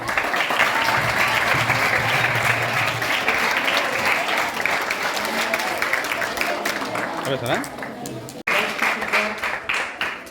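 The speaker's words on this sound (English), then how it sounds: "let us welcome Kushan with applause" Sustained audience applause at an Ambedkar Jayanthi celebration fills a hall with loud, dense clapping for about eight seconds, then briefly cuts out and resumes.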